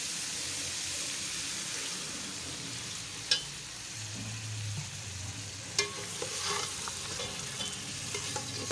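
Chicken cooking in a pan gives a continuous close sizzle as a light splash of water is flicked in, followed by scraping spoon stirs and two sharp clinks against the pan, with no voices.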